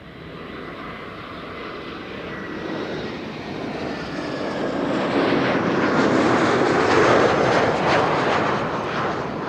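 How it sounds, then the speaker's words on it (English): Regular Embraer 195 airliner arriving from Warsaw and landing at Amsterdam Schiphol, a broad engine roar that swells gradually louder and stays steady as it passes at a distance. "This is flight 263 arriving from Warsaw. Embraer 195, not an E2, a regular Embraer 195, and that landing was polished"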